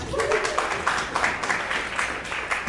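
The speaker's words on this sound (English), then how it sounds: "Round of applause for that" An audience at a Speakout 2014 talk event claps in a sustained round of applause, dense and even, with scattered louder hand claps across the whole stretch.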